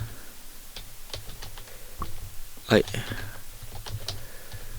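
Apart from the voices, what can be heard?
typing on a computer keyboard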